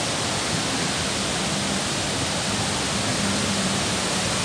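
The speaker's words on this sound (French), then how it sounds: "il y a un peu de cascade là" Waterfall along a cascade trail rushes in a dense, steady roar of falling water, loud and unbroken throughout with no other sounds standing out.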